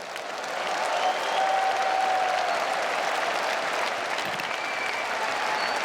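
Audience applause fills a large hall at the 50th anniversary celebration of the Billy Graham crusade, welcoming pastor Billy Kim to the stage; broad steady clapping swells in and holds loud throughout.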